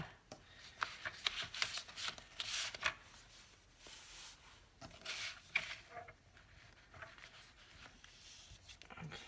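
A paper trimmer with a dull blade working through heavy cover paper for a journal, heard as a series of soft scraping, rubbing strokes and light taps, close and quiet, with pauses between passes.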